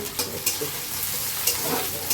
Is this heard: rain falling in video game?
no